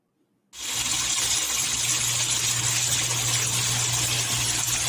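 Water gushes from a tap at Mackenzie, Linden, in Guyana, starting suddenly after a moment of silence, then pouring as a loud, steady, unbroken rush close by.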